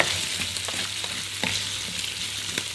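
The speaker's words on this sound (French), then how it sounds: "Et on va les cuire quelques minutes jusqu'à qu'ils soient dorés." Lardons fry in olive oil in a pan with a constant close sizzle, punctuated by light crackles and occasional stirring scrapes, and no voices.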